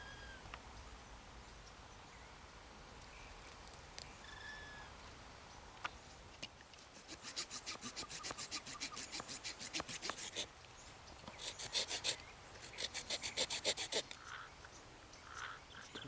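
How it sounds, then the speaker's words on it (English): A knife carves a small V notch into a wooden stick for a figure 4 trap, making quiet, rhythmic scraping strokes in short clusters against a soft outdoor background. "make a little V notch where the steeple point hits this horizontal stick"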